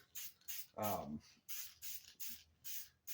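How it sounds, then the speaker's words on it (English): Several short bursts of spray paint hissing onto a foam Amtgard bastard sword, held about eight inches away, evenly spaced across the moment with brief gaps between puffs. "Little sprays."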